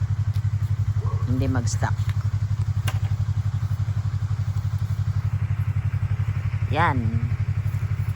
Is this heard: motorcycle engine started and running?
yes